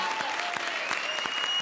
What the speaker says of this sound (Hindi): ताली के बजा रहे हो?